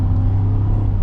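A Ford F-150 Tremor's V8 engine at quarter throttle gives a steady, deep, loud rumble from inside the truck, a brief unbroken drone with no voices.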